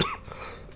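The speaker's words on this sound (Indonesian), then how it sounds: "Maaf ya batuk saya, kambuh." A single short adult cough bursts out at the start and fades quickly, close to the microphone in a quiet indoor setting during a spoken finance talk.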